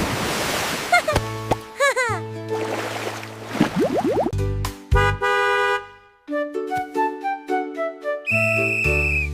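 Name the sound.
whistle being blown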